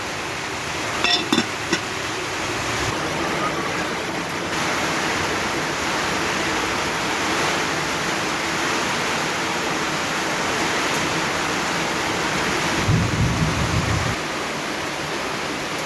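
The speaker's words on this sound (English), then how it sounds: "Guys, it's raining and it's evening." Steady broadband hiss of evening rain falling in an African village, continuous and even throughout, with a few faint knocks early on and a brief low rumble near the end.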